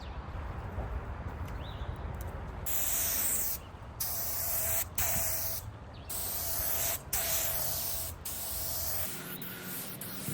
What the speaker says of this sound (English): spray on several light coats until I'm satisfied with the results